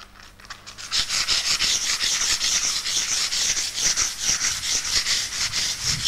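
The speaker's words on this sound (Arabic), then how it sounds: "بروح ماسك السطح مصنفره كويس بعد ما اعجنه اهو" Sandpaper rubbed over a filled, puttied wall or wood surface during house-painting prep: steady, close, rhythmic back-and-forth scratching strokes that continue without pause after a brief quiet start, with no voices.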